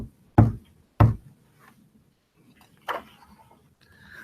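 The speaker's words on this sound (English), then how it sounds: "Just then, there was a knock on the door." Knocking on a door: two sharp, close knocks in quick succession, then a softer third knock a couple of seconds later, in an otherwise quiet room.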